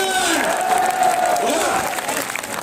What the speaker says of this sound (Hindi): जरा हाथ उठाकर तालियों की गूंज में बताइए कि आप तैयार हैं।